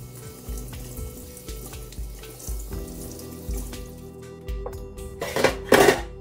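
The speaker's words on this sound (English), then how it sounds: "I rinse my pork belly quickly with fresh water." Water runs from a tap in short bursts, splashing against pork belly being rinsed in a sink, with faint clinks and a louder gush near the end.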